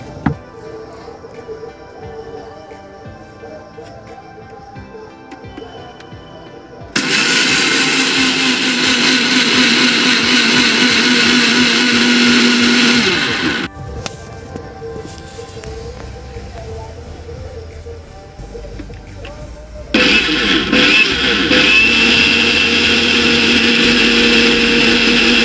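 A kitchen mixer grinder pulverizing sugar for homemade rocket fuel, a loud steady whirring motor in two long runs of several seconds each, separated by quieter stretches of handling noise.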